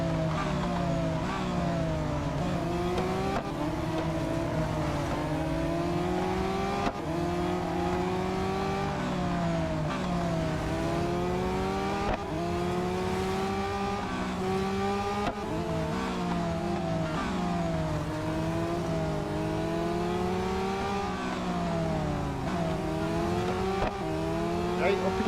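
Race cars in the Real Racing 3 video game accelerating continuously, engine notes rising and falling through repeated gear shifts over the full stretch, loud and steady, with a voice talking over them at times.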